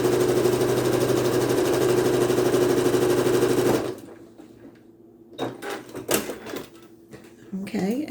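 Sewing machine stitching a quilt block, a loud steady mechanical whir with rapid rhythmic needle clatter that stops abruptly partway, followed by quieter handling clicks and rustles.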